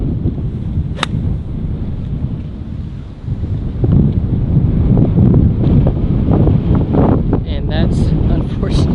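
Strong gusting wind, around 30 mph, buffets the microphone on a golf course, a loud rumbling rush that swells partway through as people chat intermittently beneath it.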